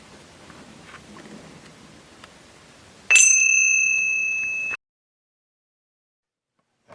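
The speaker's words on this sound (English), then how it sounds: "once the bell goes off" A single bell rung at a meditation retreat, following soft background rustle: a bright, ringing strike that sustains for about a second and a half before cutting off into silence.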